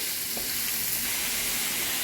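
Garlic and onion fry in hot oil for picadillo, giving a steady, close, even sizzling hiss throughout with no voices.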